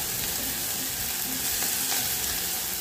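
Onion fried with garlic and salt in a pan for a creamy chicken pie filling, giving a dense, constant sizzle close by with soft stirring scrapes mixed in.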